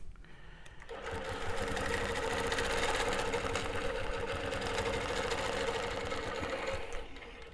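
A longarm quilting machine stitches steadily, a loud, fast, even mechanical whir that runs for several seconds before stopping.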